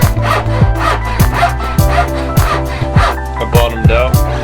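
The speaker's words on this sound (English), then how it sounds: "I bottomed out my dovetail saw, so go to a Ryobi." Hand saw cutting wood for a Moravian workbench, quick rhythmic back-and-forth strokes close by, about eight loud rasping passes in a few seconds, no voices.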